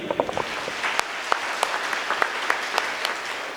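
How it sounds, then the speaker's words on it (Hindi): A church congregation claps together, with crisp individual hand claps popping out of a steady patter of applause that lasts a few seconds. "एक बार अपने लिए ताली बजाएंगे सभी।"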